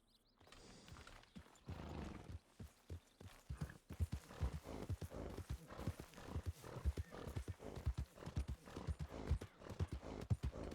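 A horse's hooves clip-clop in a steady, even rhythm throughout, fairly close but quietly recorded, with no one talking.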